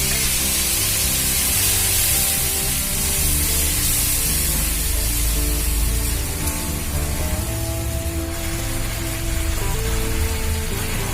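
A little water goes into a hot pan of ghugni, a spiced chickpea curry, producing a steady, loud sizzling hiss that runs unbroken throughout.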